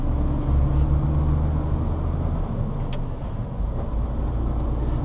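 A bus passes on a road while a car waits at a turn near a refrigeration factory, a steady loud engine rumble with a brief hiss like an air brake, heard from inside the car, with no talk.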